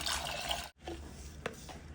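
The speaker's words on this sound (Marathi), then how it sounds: "पाणी घालूया यात आपण." A steady stream of water pours and splashes into a container, briefly pausing, then continuing with a few small drips and sloshes.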